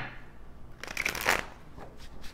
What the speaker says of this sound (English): let's get one more good shuffle in here